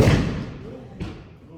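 Objects are thrown down from an upstairs floor, making heavy, booming thuds. One loud impact opens the moment, a second sharper hit follows about a second later, and both echo faintly outdoors.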